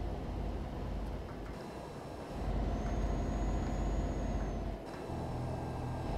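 Heavy truck engine rumbling steadily in a truck simulator game on an autobahn, a low continuous drone with a hiss of air brake and a faint tonal whine partway through.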